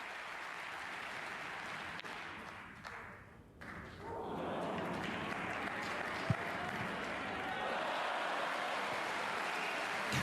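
Snooker arena crowd at a German Masters semi-final, a broad roar of cheering and applause swelling after a brief dip and holding loud and steady, with a single sharp knock partway through.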